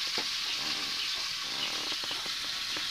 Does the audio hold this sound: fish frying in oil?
yes